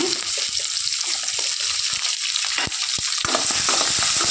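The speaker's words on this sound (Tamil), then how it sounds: "கடுகு பொறிஞ்சோடனே வெங்காயத்தை போட்டுக்கலாங்க போட்டுட்டு வெங்காயத்தை போட்டு ஒரு நல்ல ஒரு வணக்கு வணக்கி விட்டுக்கலாங்க" Onions sizzling in hot oil alongside popped mustard seeds for a mixed-vegetable sambar, a steady bright frying hiss with scattered crackles and pops throughout.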